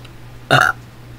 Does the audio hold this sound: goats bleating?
no